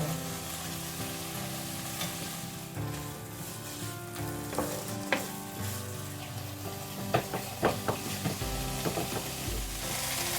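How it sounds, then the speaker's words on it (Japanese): Drained tofu stir-fried in a home kitchen pan, a steady close sizzle with scraping stirs and occasional sharper spatters, louder bursts near the end, no talking. "そして炒めますよ。"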